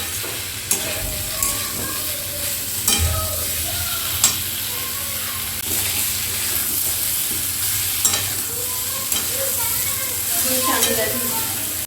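Fried prawns added to young jackfruit in a pan on a high flame give a steady frying sizzle with periodic sharp spatula scrapes and knocks as everything is mixed together, close and continuous without speech.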